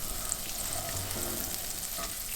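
Butter melting in a hot cast iron skillet, giving a soft, steady sizzle and crackle throughout, with no talking.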